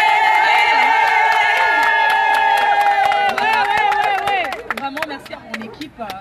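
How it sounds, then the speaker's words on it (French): An audience at a live event applauds and cheers under loud sustained tones. The clapping builds to a crowded roar, then breaks into scattered claps and crowd noise as the tones cut out. "Donc je voudrais que vous ayez un tonnerre d'applaudissements."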